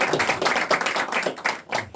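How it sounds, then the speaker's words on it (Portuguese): Audience applause at a photography club gathering in Paraty, a steady close wash of hand claps filling two seconds with no voices over it. "Dá um aplauso para ela"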